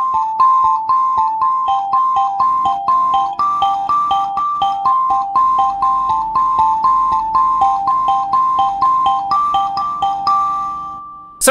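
A mbira is plucked one note at a time in a steady alternating left-right arpeggio, giving bright metallic tines ringing in an even, continuous pattern, close and clear with no talk.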